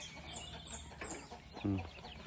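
A chicken gives a few short, quiet clucks, with faint high chirps overhead and a low background hum.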